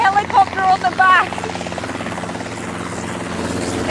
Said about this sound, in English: you can land a helicopter on the back